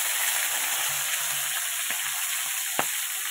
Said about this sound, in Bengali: এবার দিয়ে দিচ্ছি যে কাঁকড়াগুলো